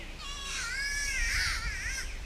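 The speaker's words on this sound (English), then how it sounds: "The bird is making a racket." A bird in Australia keeps up a harsh, squeaky racket like a squeezed dog toy, with one long burst of rising and falling squawks, close and clear over faint low background rumble.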